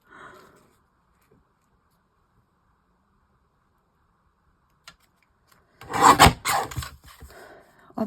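A paper trimmer slicing through card for card making, a brief quiet rasp at the start, then a long silence before a sharp scraping cut and a few rougher rubbing strokes near the end.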